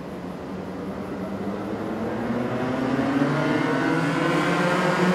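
A pack of fourteen MAX Lights racing karts drones steadily in formation at a Mizunami circuit before the start, a dense engine buzz that builds gradually in loudness with no talk.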